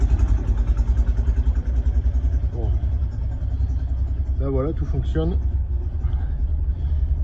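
The engine of a 1960 VW T1 camper van idles with a steady low rumble close by, while a person talks over it and a few short squeaky tones sound partway through.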